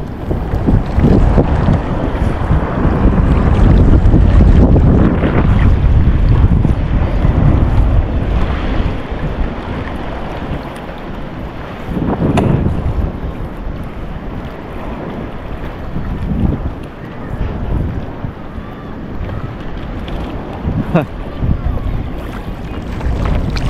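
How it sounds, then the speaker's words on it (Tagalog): Strong wind roars over the microphone while big waves slosh and crash against a boat at sea, loud and continuous throughout. "Oh, lalaki ng gulong."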